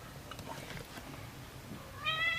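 A house cat lets out a short, clear meow at the very end, after a stretch of faint room noise.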